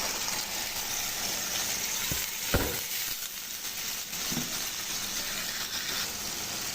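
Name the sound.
dried loitta fish frying with potatoes in pan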